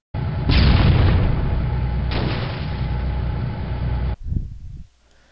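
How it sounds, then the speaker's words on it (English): Tank main cannons fire at each other in the Halo video game: two heavy booming blasts, about 1.5 seconds apart, close and loud with rumbling tails, then a few fading thuds before it falls quiet. "when I say now, fire the main cannon of the tanks at each other"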